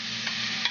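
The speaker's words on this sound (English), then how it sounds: "Just want to warm the lobster up in the butter" Lobster warms in melted butter in a pan, giving a soft, steady sizzle with a couple of faint clicks, heard briefly and up close with no talk.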